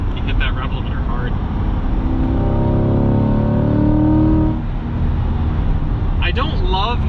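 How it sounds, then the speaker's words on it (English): A 2021 Chevrolet Corvette Z51 engine climbs loudly in pitch under hard throttle up to the rev limiter, then cuts off sharply and settles to a lower drone as it runs on, heard from inside the car. "You hit that rev limiter hard."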